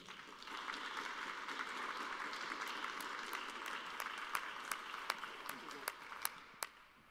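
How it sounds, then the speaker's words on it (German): Audience applause at an award ceremony for a federal environment and building prize, a steady dense patter of many hands with a few sharper claps standing out near the end, heard from the hall at moderate distance. "Das ist Ihr Applaus."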